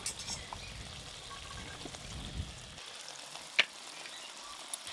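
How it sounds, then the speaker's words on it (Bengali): Soft, faint bubbling of egg curry still simmering in a clay pot after being taken off the heat, quietening partway through, with a small click near the end. "এই দেখুন মাটির হাঁড়িতে রান্না করেছি, নামিয়ে নেওয়ার পরও এখনও ফুটছে"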